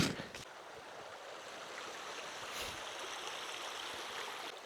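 Steady broadband rush of a brook flowing through Newfoundland winter backcountry, continuous and fairly close, running alone without voices.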